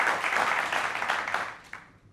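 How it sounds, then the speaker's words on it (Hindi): Studio audience applause during a televised Hindi talk show interview, a short dense round of clapping that tapers off within two seconds. "इसके लिए वाकई जोरदार तालियां आपके"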